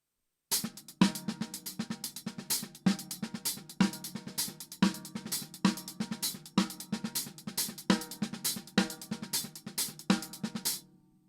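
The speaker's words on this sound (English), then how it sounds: "warming up with paradiddles and doubles" A drum kit plays alone, up close. Quick alternating strokes with doubled hits fall in a steady, even pattern that stops abruptly.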